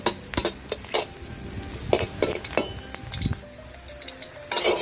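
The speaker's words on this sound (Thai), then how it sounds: "ทำการผัดเห็ดหอมให้หอมกันเลยนะคะ มันจะช่วยเพิ่มรสชาติให้กับกับยากิโซบะของเราได้ดีค่ะ" Shiitake mushrooms are stir-fried in a pan for yakisoba, with a spatula scraping and clinking against the pan in repeated close strokes over a steady background sizzle, without any talk.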